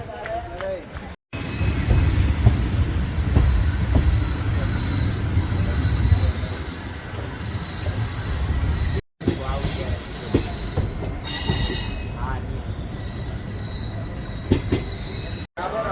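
A general-class passenger train pulling into Rajkot railway station, with a loud, sustained rumble of wagons rolling past and bursts of squealing wheels. Excited voices talk over the noise nearby.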